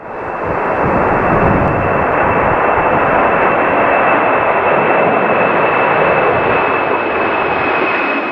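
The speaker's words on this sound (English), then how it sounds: "At Manchester Airport, the Boeing 757 battled strong winds as it fought its way into the sky." A Boeing 757 takes off in a strong crosswind at Manchester Airport, its engines a loud, sustained broadband roar with a steady high whine, heard from nearby throughout without letting up.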